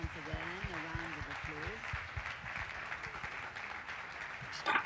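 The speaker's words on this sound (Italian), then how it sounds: "Raf Granot, che invito a salire sul palco con un applauso come sempre." An audience at a political rally applauds as a guest is invited on stage, steady clapping underneath someone speaking over a public address system.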